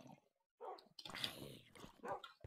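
Dogs in the Minecraft video game bark and yip in a few short, close bursts with brief gaps between them.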